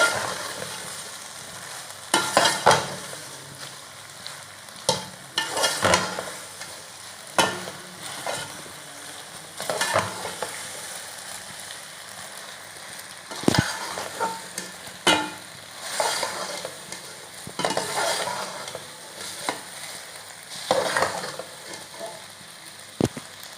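Macaroni is stirred in a pan, a spoon scraping and clanking in irregular bursts over a low steady sizzle, close and moderately loud, with no voices.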